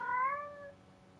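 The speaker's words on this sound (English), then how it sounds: "shush, kitten, shush. I'm recording." A kitten lets out a single clear, rising-then-falling meow, close and fairly soft, then fades into quiet.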